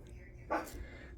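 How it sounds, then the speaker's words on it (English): Dogs bark from a bay window indoors, heard as one short, muffled bark partway through, over a low background hum. "Sorry for the barking, guys."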